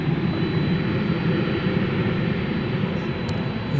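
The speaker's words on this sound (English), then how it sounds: "That was American Flight 2900 arriving from LAX, an Airbus A321" An Airbus A321, American Flight 2900 arriving from LAX at DFW Airport, passes with a loud, steady jet roar that holds evenly from start to finish, with no voices.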